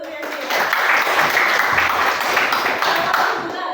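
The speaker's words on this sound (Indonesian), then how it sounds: "Tepuk tangan dulu untuk Yantius." Classroom of students applauding a classmate, a burst of rapid, overlapping clapping that swells quickly, holds steady for a few seconds, then tapers slightly, with children's voices faintly mixed in.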